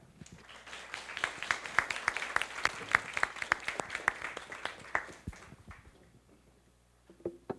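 Audience applause at a Taiwan Foreign Correspondents' Club event as the Vice President is invited on stage, with rhythmic clapping building and then fading out over several seconds, followed by a brief voice.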